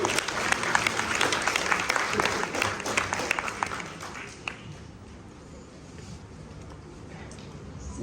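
An audience at an Urdu musical play and literary event in Mysuru applauds loudly for about four seconds, the dense clapping then fading away into quieter room noise and murmur.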